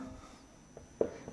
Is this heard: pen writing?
yes